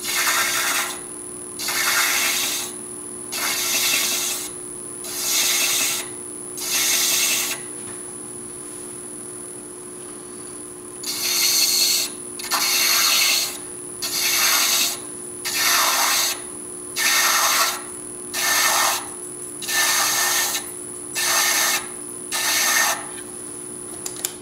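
Thread chasing on a cast resin needle case spinning on a wood lathe at about 316 RPM, a rasping scrape in repeated short passes, each lasting about a second with brief gaps, steady and close over a constant motor hum.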